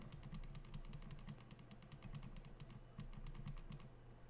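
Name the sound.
Roccat Kone Aimo Remastered mouse buttons clicking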